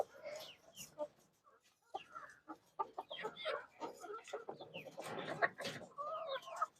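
Laying hens cluck at feeding time in a backyard flock, giving a scattered series of soft clucks and squawks at moderate distance, with some voices mixed in.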